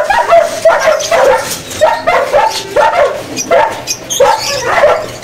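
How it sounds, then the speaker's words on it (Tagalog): Big dogs bark and yelp repeatedly up close, loud and agitated, in a rough rhythmic series of overlapping calls. "lalaki ng aso."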